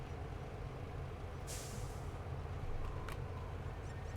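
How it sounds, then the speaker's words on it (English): A truck in the video game SnowRunner sits with its engine idling in a low, steady rumble, broken by a brief hissing air-brake release partway through, with no talk. "I'm gonna let the engine of this run"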